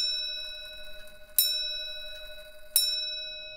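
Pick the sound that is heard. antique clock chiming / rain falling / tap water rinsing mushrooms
antique clock chiming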